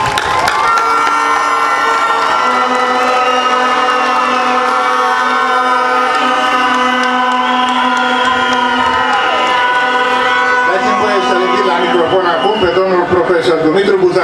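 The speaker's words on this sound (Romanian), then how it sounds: "vreau să vă cer să-i aplaudăm pe toți profesorii datorită cărora suntem aici" A crowd at a high school graduation ceremony in Vaslui cheers and shouts loudly and steadily for the teachers, with children's voices prominent and voices talking throughout.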